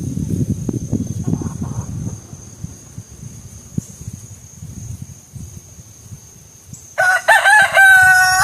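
A rooster crows loudly near the end, a bright harsh call rising over a low rumbling, wind-like background after several seconds of muffled noise.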